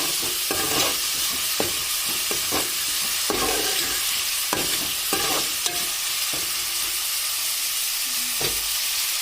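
Continuous loud sizzling of food frying in oil until golden brown, punctuated by repeated clanks and scrapes of a spoon stirring the pan.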